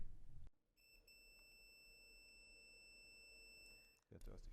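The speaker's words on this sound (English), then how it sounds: "we show the viewers this beeping sound made by our device" A multimeter's continuity test beep, a steady high electronic tone sounding continuously for about three seconds, close and clear, with a faint hum underneath and brief bumps before and after.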